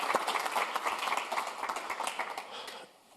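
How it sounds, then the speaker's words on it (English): A mid-sized audience at an aviation and sustainability panel applauds its speakers, with fairly close, uneven clapping that carries for nearly three seconds and then drops away abruptly. "I think we should applaud the three speakers so far."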